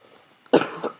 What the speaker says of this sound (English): sorry I have a bit of a cough today